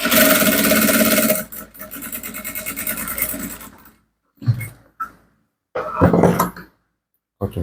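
Sewing machine stitching a top, a stitch-and-fling-over seam: a loud, fast whir for just over a second, then a softer stretch of rasping, rubbing fabric noise, followed by isolated bumps and brief bursts of handling.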